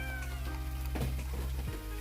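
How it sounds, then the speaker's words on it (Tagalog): A pet cat meows indoors during a snowstorm in Lebanon, giving a couple of drawn-out, wavering meows over a constant low hum of a heater or appliance. "kawawa ng aming mga pusa"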